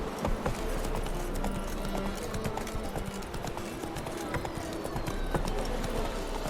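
Rhythmic clip-clop of a horse galloping in The Witcher 3, steady hoofbeats throughout over game ambience, with a voice briefly heard.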